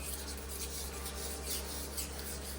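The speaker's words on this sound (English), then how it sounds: "Some of the soap scum can be just removed by using a razor blade" A razor blade scrapes soap scum and water deposits from a brown marble shower wall, a steady close rasping that runs unbroken and fairly loud.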